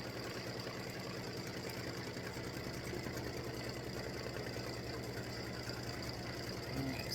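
An embroidery machine stitches a Halloween pumpkin design with a steady, fast mechanical chatter and hum that runs evenly and continuously at a moderate level.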